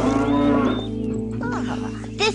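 A cow on a farm moos in a long, loud, drawn-out call, followed by softer lowing and a brief rise near the end, with steady farm background and no talking.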